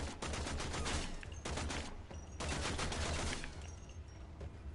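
Continuous rapid gunfire from the video game Warframe, a dense clattering stream of shots with brief gaps, moderately loud over a low steady rumble.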